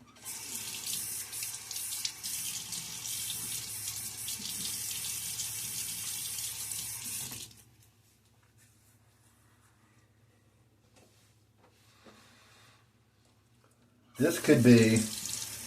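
A bathroom sink tap runs steadily for about seven seconds while a face is wetted before a shave, then shuts off into near silence, followed by a short burst of splashing water near the end, with a few spoken words.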